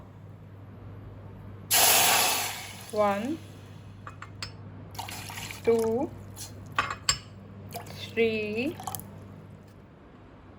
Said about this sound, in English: In a pan we'll add 4 cups of water.